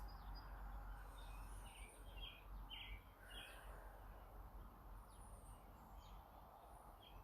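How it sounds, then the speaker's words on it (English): Faint bird chirps come and go over a constant low rush of distant traffic outdoors. "Can you hear it? The birds."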